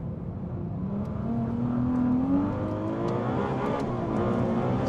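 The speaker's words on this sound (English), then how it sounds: "Love the sound of those shifts, and they're so" A Ferrari 296 Speciale accelerates hard from the cabin with a steady, loud engine roar rising in pitch and quick upshifts that briefly break the tone, a continuous drone throughout.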